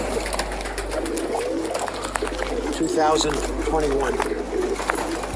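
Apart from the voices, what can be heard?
pigeons cooing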